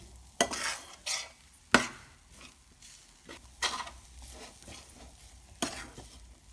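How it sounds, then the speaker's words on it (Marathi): A spoon stirs masala sautéing in a pan for stuffed bitter gourd, with a string of sharp scraping strokes at irregular intervals over a faint sizzle. "दोन मिनिटं हा मसाला परतून घेऊ।"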